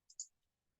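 A computer mouse gives two quick, faint clicks in close succession against a quiet background.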